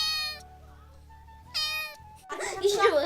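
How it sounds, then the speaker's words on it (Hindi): A tiny kitten in a village gives two high, clear meows separated by a short pause, followed by a burst of louder, rougher vocal sound close by. "छोटा सा बिल्ली का बच्चा देखेंगे दोस्तों, ये म्याऊं म्याऊं कर रहा है"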